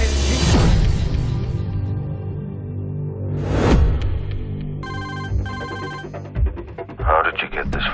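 A telephone rings inside a rental car in a 2013 film scene: a burst of electronic bell trills follows a whoosh, with people talking around it.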